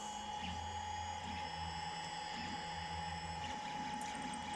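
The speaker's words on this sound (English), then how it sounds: "There's the 3D printer printing." A 3D printer runs steadily, its stepper motors whining and humming in shifting tones as the head moves, with a constant mechanical drone and no talk.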